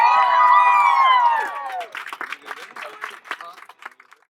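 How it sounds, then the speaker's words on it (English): Fans at a women's lacrosse team celebration cheer with loud overlapping voices at first, then turn to scattered hand claps that thin out and fade. "a round of applause for all of our fans"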